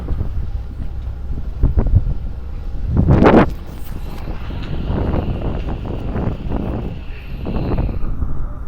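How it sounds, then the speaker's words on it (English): Strong wind in Kutaisi, Georgia, buffeting the microphone in heavy rumbling gusts, with one loud blast partway through and a faint background hum. "At the moment it's very windy"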